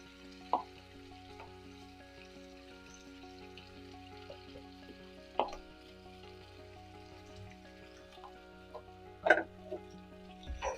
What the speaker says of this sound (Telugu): ఆ పేస్ట్ అంతా కూడా వేసి కొంచెం వేగనిద్దాం